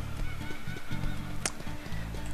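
A large bird's honking call from the Ty the Tasmanian Tiger video game, a cassowary, sounding as repeated low goose-like honks over a steady background with one sharp brighter burst near the middle.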